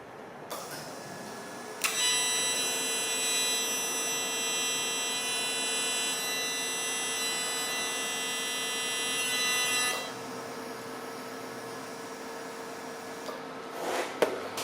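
A TIG welder working on a part for a Toyota Hilux suspension build gives off a steady electric buzzing hum with a sharp start. The hum holds evenly for about eight seconds, then cuts out, leaving quieter workshop background.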